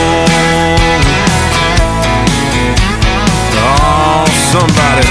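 A recorded country song plays loud and steady, full band with bass, drums and melodic lines running continuously throughout, no talking over it.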